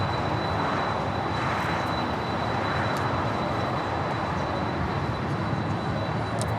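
Emirates Airbus A380 jet at Los Angeles International Airport, a steady broad roar of engine noise filling the whole stretch, constant and fairly distant without clear rise or fall.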